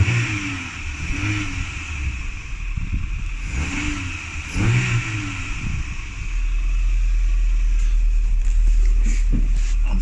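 A Renault Twingo fitted with a Ramair intake revs up in a few short bursts, followed by a sustained low drone that grows louder toward the end, heard from close by.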